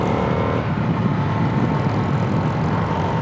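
Indian FTR1200 R Carbon motorcycle engine pulling hard at high revs while being ridden, a dense, steady roar with wind rush close to the rider throughout.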